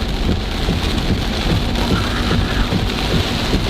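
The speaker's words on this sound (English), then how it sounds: "Look how bad it's pouring." Heavy thunderstorm rain pours steadily outside, a dense continuous wash of drumming drops with water gushing from a drain spout, loud and close throughout.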